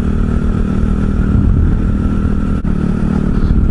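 A small Honda Cub motorcycle engine drones steadily and close while riding, holding a constant buzzing pitch with a brief dip in the middle.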